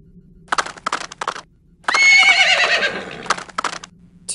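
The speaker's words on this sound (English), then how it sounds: "Two horses." A horse neighs in the PC game I Spy: Spooky Mansion Deluxe, a loud, shrill whinny of about a second and a half, preceded and followed by short clip-clop hoof knocks.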